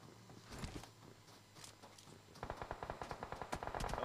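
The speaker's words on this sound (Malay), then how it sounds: "Okey, dia tembak di situ." Rapid bursts of gunfire in a shooter video game during a school esports championship final, faint at first and then a quick repeating volley of shots in the second half.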